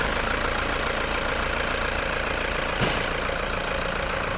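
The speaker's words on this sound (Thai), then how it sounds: "ตอนนี้สตาร์ทเครื่องยนต์อยู่นะคะ ฟังเสียงเครื่องยนต์ได้เลยค่ะ" A 2015 Toyota Commuter van with a 3.0-litre diesel engine idles steadily, giving a constant, even clatter and rumble at close range, with one brief tap midway and no talk.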